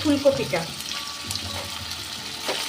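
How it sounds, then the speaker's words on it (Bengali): Diced cauliflower frying in a pan alongside lightly fried potato and carrot for a spinach curry, with a soft continuous sizzle and occasional stirring scrapes. "ফুলকপি দিয়েও আর একটু ভেজে নেব।"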